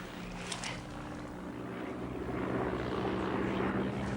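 A plane drones overhead during a mock air-raid drill, a steady low propeller-engine hum that swells and grows louder toward the end, with no one speaking.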